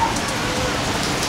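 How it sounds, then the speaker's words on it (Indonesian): Rain falls steadily outdoors, a constant broadband hiss with faint patter and no clear gaps, heard at moderate level without voices. "Hujan pula lah ini."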